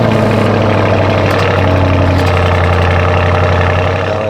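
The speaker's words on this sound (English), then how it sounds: "Let me put some engine noise right here so you can see that exhaust in action." A Lamborghini Urus SUV engine runs through its quad tip exhaust, a loud, steady, deep idle burble with a low throbbing pulse throughout, close and alone with no talk.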